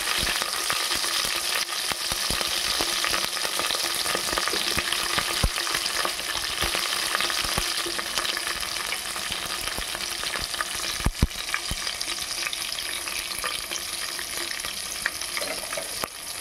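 Green chillies and onions fry for khichdi in a hot pan, a steady dense sizzle with occasional stirring clicks, close and loud throughout with no voices.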